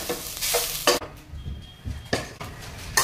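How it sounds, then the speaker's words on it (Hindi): Fresh grated coconut roasting in a pan, a close, bursty scrape and sizzle as a spatula stirs it, with short quieter gaps between strokes. "ये फ्रेश कोकोनट है, ओल्या नारा सब खोबरे है और इसे हमें अच्छी तरह से भून लेना है।"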